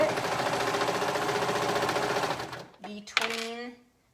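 A sewing machine stitches through thick layers of gathered fabric on a cardigan side seam, running steadily and loudly for over two seconds before stopping, followed by a brief burst of someone talking.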